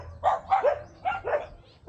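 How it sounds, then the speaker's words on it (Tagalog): Dogs barking in quick bursts, about five sharp nearby barks in two pairs and a single, loud and close with no talking. "Wala man puro aso ang nandito."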